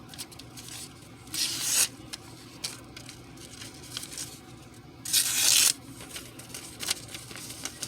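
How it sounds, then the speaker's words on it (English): A freshly sharpened knife slices through thin phone book paper in two distinct bursts of crisp tearing and slicing, with soft handling noises between them and no speech. "let's see how it does with the phone book paper"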